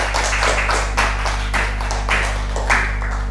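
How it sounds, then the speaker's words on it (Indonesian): A classroom group of students claps for a student group, soft, uneven clapping layered over a steady low electrical hum, fairly close, lasting a few seconds. "Berikan tepuk tangan untuk kelompok Pipin."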